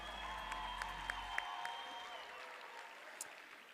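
An audience at a student business competition final gives a round of applause, a moderate, fairly distant patter of clapping that gradually thins out with a few sharper claps near the end.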